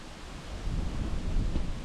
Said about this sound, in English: it's a little windy this morning